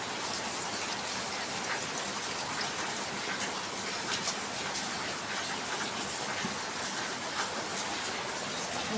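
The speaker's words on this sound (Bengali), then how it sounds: "বাহিরে খুব বৃষ্টি নামছে প্রচণ্ড বৃষ্টি নামছে" Heavy rain pours outside in a village setting, a loud, dense, continuous hiss of drops drumming on surfaces with no pauses, steady and close throughout.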